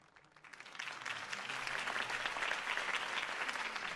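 A crowd in Batman: The Telltale Series bursts into sustained applause after a campaign speech, starting soft and quickly swelling into steady, loud clapping that continues throughout.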